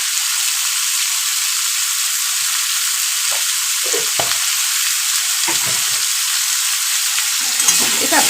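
Potato and brinjal curry with turmeric fries in a pan, a loud, unbroken hissing sizzle with a few faint stirring scrapes now and then.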